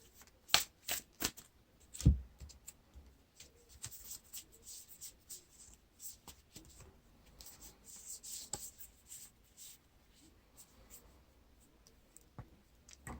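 Cards are drawn from decks and handled on a table during a Lord of the Rings card game, with close, dry papery slides, snaps and soft shuffling rubs in irregular bursts, quiet overall.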